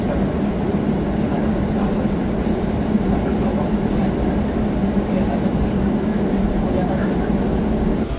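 Inside the KA Logawa economy train as it rolls into Sragen station, a steady loud low rumble of wheels and carriage noise continues throughout without clear braking or horn.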